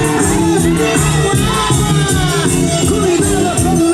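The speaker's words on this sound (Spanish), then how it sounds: "Fuertes los aplausos para ellos." An audience at a southern carnival festival in Chilca, Huancayo, cheers and whoops for folk dancers leaving the stage. The crowd noise is loud and lively, with shouts rising over a steady din and voices talking throughout.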